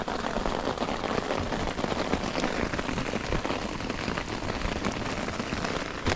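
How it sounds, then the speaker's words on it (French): Rain beginning to fall outdoors ahead of a thunderstorm, a dense, close, even patter of drops hitting surfaces, continuous and fairly loud with no talking. "il commence à pleuvoir, c'est pas l'orage encore mais ça commence à flotter"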